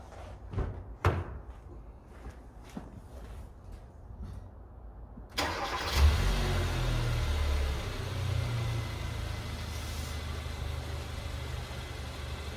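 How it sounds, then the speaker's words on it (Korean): A few door clunks and knocks, then the gasoline engine of a 2016 Kia Soul cranks and starts, settling into a steady, fairly quiet idle nearby. "자, 시동을 한번 켜보도록 하겠습니다"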